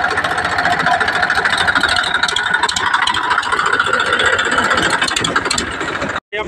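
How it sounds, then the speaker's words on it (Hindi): A tractor engine runs in a farm field during mustard threshing, a loud, steady, rattling drone that continues without a break before cutting out briefly near the end. "ट्रैक्टर चल रहा है"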